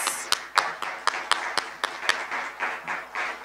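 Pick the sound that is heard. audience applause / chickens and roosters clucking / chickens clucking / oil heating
audience applause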